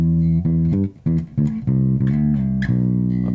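A low bass guitar plays a short, punchy variation of a well-known riff, repeated notes with quick slides and brief gaps between phrases, loud and close.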